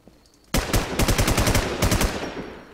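Rapid bursts of automatic gunfire in a Stronghold video game session, a loud sudden volley starting sharply then continuing in clustered, stuttering runs of shots close up.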